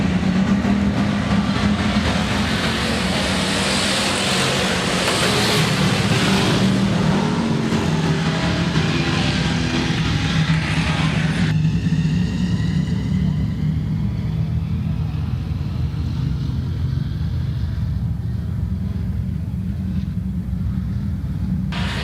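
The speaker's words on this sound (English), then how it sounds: "Heat race number 2 of the Lems Auto Recycler Sportsman is underway." A pack of Lems Auto Recycler Sportsman race cars roars around the dirt oval at Rapid Speedway at the start of a six-lap heat race. The loud, sustained engine rumble continues throughout and eases slightly partway through.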